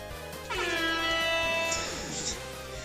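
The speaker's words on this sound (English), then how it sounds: "Air horns." A blaring air horn sound effect plays in the Aidyn Action Edition game, a single long harmonic blast lasting nearly two seconds, with voices talking around it.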